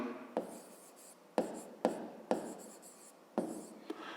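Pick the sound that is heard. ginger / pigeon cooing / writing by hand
writing by hand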